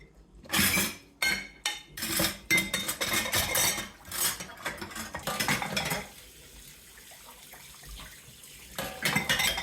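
Dishes being washed by hand in a home kitchen: pots, plates and cutlery clank and clink in close, busy bursts over running tap water, with no talking.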